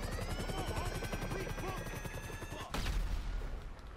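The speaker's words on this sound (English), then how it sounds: "I'm trying to shoot the pilot" Rapid bursts of in-game gunfire in GTA V story mode, aimed at a helicopter pilot, crackle over the steady chop of helicopter rotors, with a loud blast near the end.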